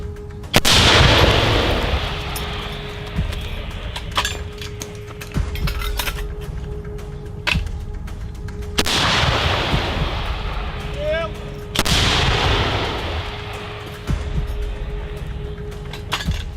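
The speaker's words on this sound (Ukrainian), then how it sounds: "Вогонь, вогонь. Постріл!" Heavy booming shots fire one after another on the Bakhmut front, each a loud blast with a long rumbling tail, spaced several seconds apart outdoors.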